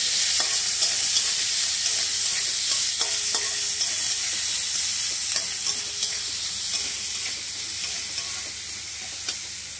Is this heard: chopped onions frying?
yes